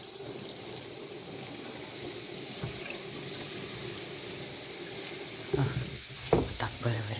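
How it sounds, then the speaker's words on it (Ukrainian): A little water is poured and trickles steadily into a sink during chemical-free cleaning with citric acid, a faint continuous flow with a few splashy knocks near the end while someone speaks. "Трішки більше можна водички отак."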